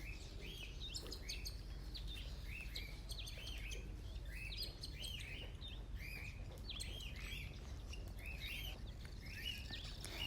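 A cockatiel chirping in repeated short bright calls throughout, set against a steady low background hum.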